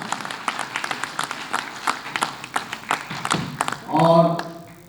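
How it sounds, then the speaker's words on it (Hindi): Scattered, uneven clapping from a theatre audience after the play Manjhi at a drama festival, a few hands slapping in loose bursts, closing with a short vocal sound at the end. "उस फगुनिया के लिए जोरदार ताली"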